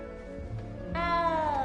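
A cat in the Hogwarts Legacy video game lets out a clear, drawn-out meow midway, with a short soft mew just before it, over a quiet background game ambience.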